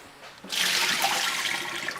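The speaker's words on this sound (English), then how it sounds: "we're going to take those potatoes over to the sink and just tip the water out" Water is tipped from a pot of potatoes into a kitchen sink, a sudden gushing splash that starts after a short quiet moment and pours steadily to the end.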